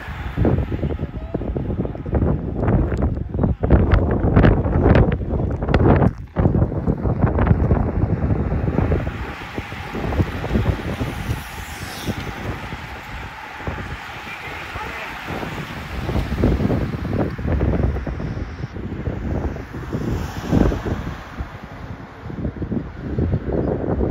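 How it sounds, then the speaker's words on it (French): Strong wind at sea during a sailing race, loud gusting microphone buffeting mixed with waves and boat noise, continuous and heavy for the whole stretch with a slight easing midway. "Beaucoup de vent aujourd'hui."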